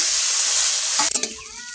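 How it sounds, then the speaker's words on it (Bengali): Washed lentil dumplings (bori) in hot oil give a soft steady sizzle, then a brief burst of spattering crackles and stirring as they drop in, close and without voices. "এই বড়িগুলো ধুয়ে রেখেলাম, তেলে দিয়ে দেবো।"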